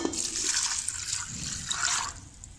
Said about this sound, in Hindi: अब हम इसमें पानी ऐड करेंगे दो ग्लास